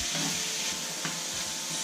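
Mushrooms frying in a pan, cooked until golden brown for a pork tenderloin dish. A steady, close hiss of sizzling continues throughout, with faint stirring or scraping and no talk.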